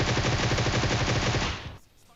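Rapid automatic gunfire from PUBG Mobile, a dense burst of evenly spaced shots for nearly two seconds before cutting off abruptly into quiet.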